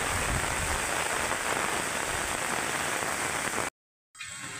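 Torrential rain from Typhoon Kristine lashes a road in Masbate, a loud unbroken hiss of downpour that cuts out abruptly near the end, then resumes a moment later.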